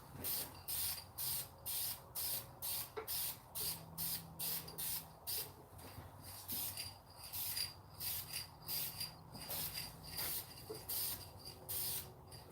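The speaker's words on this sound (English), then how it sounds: "I'm going to spray towards that side" Paint spray gun firing in short repeated bursts of hissing spray, roughly one per second with brief gaps, close and steady, with faint background noise and no talk.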